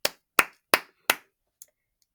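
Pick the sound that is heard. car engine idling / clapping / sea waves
clapping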